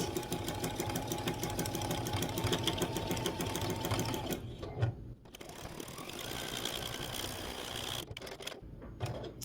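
A sewing machine stitching around an appliquéd hat on a quilt block, a rapid, steady mechanical whir that stops briefly twice and then resumes.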